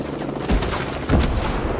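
Helicopter gunfire aimed at the player in the Ghost Recon Breakpoint co-op shooter, with two heavy low booming bursts a moment apart over a steady rumble of battle noise.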